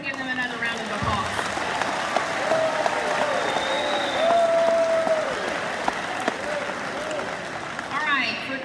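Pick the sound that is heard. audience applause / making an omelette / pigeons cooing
audience applause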